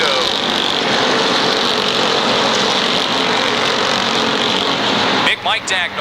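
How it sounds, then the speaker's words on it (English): Late model race cars at Waterford Speedbowl in 1991 roar in a steady, loud engine drone under a commentator's continuous talk, with a brief dip in the noise near the end. "out of turn number 4, Tommy Gaudreau looks to click off lap number 2."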